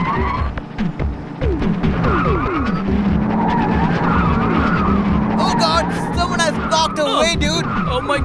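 A car rolling backward out of control, skidding, loud revving engine with tire squeal and scraping, chaotic and close, with shouting voices over it near the end.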